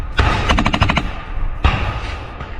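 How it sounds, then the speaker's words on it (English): MG3 machine gun firing in trench combat in a forest, with a close, loud rapid burst followed by a shorter second burst and echoing reports in between. "MG3 machine guns have seen extensive use in the Serebryansky forest, as shown here in this helmet camera footage from the perspective of a Ukrainian machine gunner."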